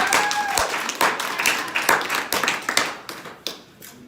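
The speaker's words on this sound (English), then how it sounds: "give yourselves a round of applause" Trainees at a sales training session applauding themselves, a lively burst of close clapping with distinct individual claps that gradually thins out toward the end, with a brief whistle near the start.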